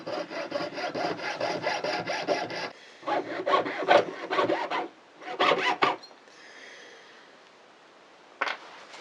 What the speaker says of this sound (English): that's a typical jewellery saw